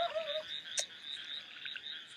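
Frogs croaking in a steady chorus of repeated calls at night, moderately quiet and continuous, with one sharper nearby croak standing out and no talking.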